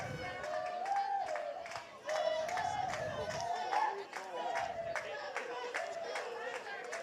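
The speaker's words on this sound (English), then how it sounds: "they're bringing on their softball cheers, and very entertaining, and trying to get everybody to clap along with them" A softball team chants its cheers at a high school baseball game while the crowd claps along in a steady rhythm, voices and hand claps mixing throughout.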